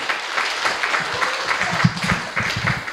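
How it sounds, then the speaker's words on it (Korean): Applause from attendees at a residents' autonomy council general assembly in Junggye 1-dong, moderate clapping with a scattered, uneven texture, fairly close and unaccompanied by speech. "큰 격려 박수로 소개를 마치겠습니다"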